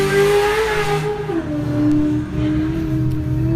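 A Trent Fab Ellis 447 Turbo 400 race car on a desert qualifying run, its engine droning loudly and steadily, the pitch shifting as it revs and settles, heard close with no talk.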